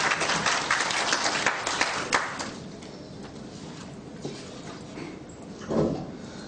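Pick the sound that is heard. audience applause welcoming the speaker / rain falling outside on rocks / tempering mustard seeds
audience applause welcoming the speaker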